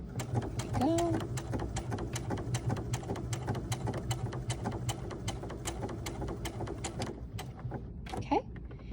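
A sewing machine stitches a fabric bookmark with a steady, rapid rhythmic needle clatter that runs for several seconds, then stops with a couple of faint knocks, heard close up under a low hum with no voices.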